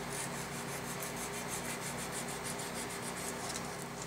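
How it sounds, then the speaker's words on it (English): A Sog knife blade is sanded by hand on sandpaper in steady, fast back-and-forth strokes, producing a continuous close gritty rasp with a rhythmic scraping pulse and no talk. "if you can hold it parallel upside down and place it on the sandpaper, you can probably do a better job"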